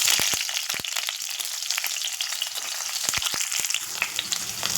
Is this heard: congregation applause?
no